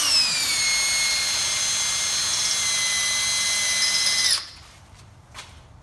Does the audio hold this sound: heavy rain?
no